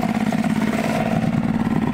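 Outboard motor on a bass fishing boat idling roughly as if about to stall, a close, steady, uneven low chugging throughout.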